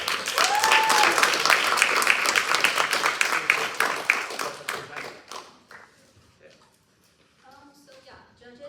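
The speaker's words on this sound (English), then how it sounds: "You guys please extend your applause for all of Kappa class." An audience at a Kappa class demo day claps loudly, with whoops over the applause. The clapping fades after about five seconds, leaving scattered claps and quiet voices.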